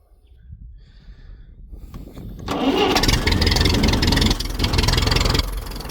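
A Ferguson TED 20 tractor with a backhoe fitted cranks and catches, its engine rising from a low turnover into a loud, steady, chugging idle close by.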